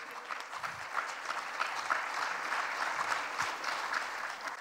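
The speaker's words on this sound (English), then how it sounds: "A round of applause, please, for the panelists." An audience at the PyeongChang Global Peace Forum 2019 applauding panelists at the close of a session, sustained even clapping from a large hall crowd, moderately distant and without talk.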